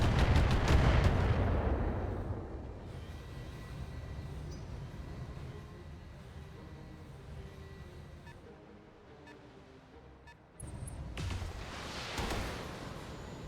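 Weapons fire from mechs in the BattleTech strategy game, aimed at a Battlemaster: a heavy rumbling barrage opens loud, then settles into a sustained lower roar with scattered impacts, and a fresh burst flares near the end.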